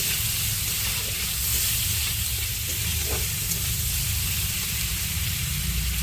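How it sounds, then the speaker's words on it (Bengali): Prawns seasoned with salt and turmeric fry in a pan while being stirred, producing a loud, continuous, close-up sizzle with an even hiss and no voices. "একটু চিংড়ি মাছটা ভালো করে নাড়াচাড়া দিয়ে দেবো"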